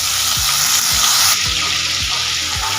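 Spice paste and black cumin frying in mustard oil produce a loud, continuous sizzle, with a few low knocks and scrapes of stirring spaced through it.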